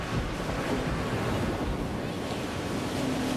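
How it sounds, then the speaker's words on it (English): Storm waves pound the shore at a Fenwick, Connecticut summer home during the Great Hurricane of 1938. The surf roars steady and loud with heavy wind noise and no voices. "relentless waves pound Katharine Hepburn's summer home"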